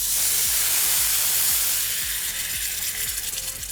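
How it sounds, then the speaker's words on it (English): Water poured into a hot cooking pan, already seasoned with salt, pepper and paprika, bursts into a loud continuous sizzle and hiss that settles slightly but keeps crackling. "so here we'll add some water."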